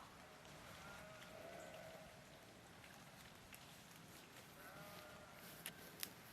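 A sheep bleats a couple of times at a distance, its calls rising over a steady hiss of falling rain.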